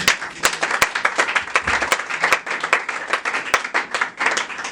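A church congregation claps to acclaim the Lord, with dense, irregular applause and sharp individual claps running throughout, loud and close.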